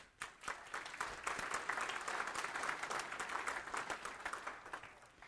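Audience applause at a fish and wildlife conference breaks out right away and continues as a steady wash of clapping across the room. The level is faint and distant, with no talk over it.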